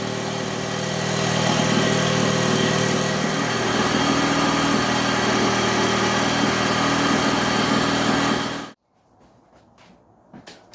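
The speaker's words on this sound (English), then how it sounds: "The engine's actually running and the wheel's not turning." A 1964 Raleigh Runabout RM8 moped engine with a failed clutch runs loud and steady at close range for about nine seconds, then cuts out abruptly, leaving faint knocks and rustles.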